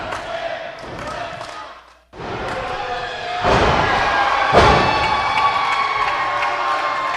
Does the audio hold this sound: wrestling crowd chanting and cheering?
yes